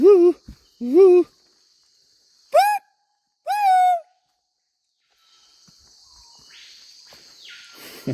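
Birds calling back and forth near a walker outdoors: several loud, clear harmonic hoot-like calls in short bursts, then quieter ambient rustle and faint hiss with no talk.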